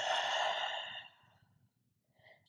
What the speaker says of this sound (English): Inhale through the nose, fill up the belly. Open mouth, exhale.